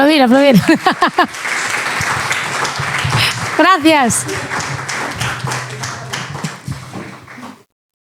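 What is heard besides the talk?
audience applauding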